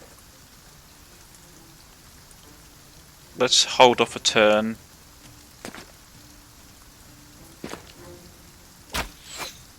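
Steady rain ambience from the video game Battle Brothers hisses faintly and evenly in the background throughout, while someone speaks briefly over it and a few short clicks or taps punctuate the later seconds.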